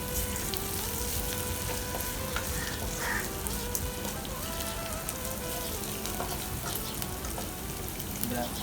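Onions fry in a pan for Kerala-style coconut rice with Malabar chicken, a dense continuous sizzle with faint crackles, heard close and steady with no talking.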